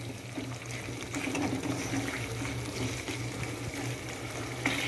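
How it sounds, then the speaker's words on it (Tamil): Chicken gravy in a pot, thinned with a quarter glass of water, coming to a steady boil with a continuous bubbling, simmering hiss and soft sizzle throughout, close and moderately quiet, with no talking. "இப்போது நல்லா கொதிக்க ஆரம்பிச்சிச்சு"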